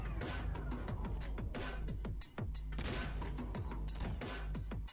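Dense, sustained gunfire rattles through the video game Plazma Burst 2, rapid overlapping shots and crashes forming a loud continuous fusillade with only a brief dip partway through.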